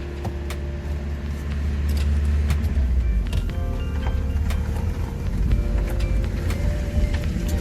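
Engine of a rare Datsun coupe running steadily nearby, a low continuous rumble with a slight rise in revs partway through, alone without voices.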